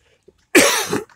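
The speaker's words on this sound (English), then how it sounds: "Of course, I'm coughing all the way." A single harsh cough from a person on a morning walk through a neighborhood in Silang, Cavite, close and loud, preceded by near silence.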